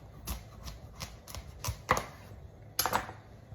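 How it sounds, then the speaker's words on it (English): A knife cuts through an acorn squash on a board, a string of crisp close thuds and chops spaced about a third of a second apart, then a pause and a final sharper cut. "cut the ends off"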